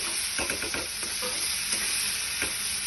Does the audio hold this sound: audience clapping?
no